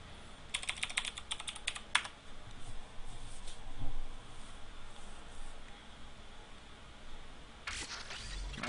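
Fingers type on a computer keyboard in short bursts of rapid clicks, then a pause and another brief flurry, close and fairly quiet with no talk.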